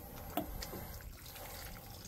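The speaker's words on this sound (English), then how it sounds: "Splash more water." Water splashes into a hot lime mortar mix as it is folded together, giving a faint, quiet wet slosh with one brief sharper splash near the start.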